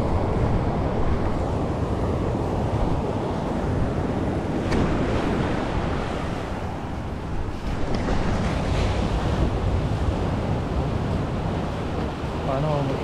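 Big ocean waves crashing along a shore, a continuous loud roaring surf mixed with heavy wind buffeting the microphone for the whole span.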